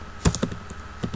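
An SQL query typed on a computer keyboard, a short quick burst of several crisp key clicks at close range in a quiet room.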